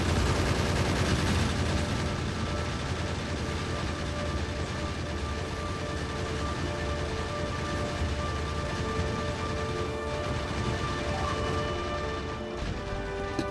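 Continuous dense gunfire from an enemy in the factory-building game Factorio, a steady rattling barrage layered over game noise and music that runs unbroken throughout.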